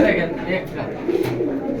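Soft, low pigeon cooing close by, a couple of throaty rolling calls mixed with a person talking.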